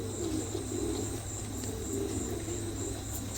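A pair of fancy pigeons coo in soft, low, rolling murmurs over a constant background hum, with no voices.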